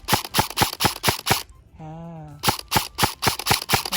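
An E&C 331S M4 airsoft rifle fires 0.20 g BBs in a fast string of sharp, close cracks, pausing briefly for a tonal whine before another rapid burst.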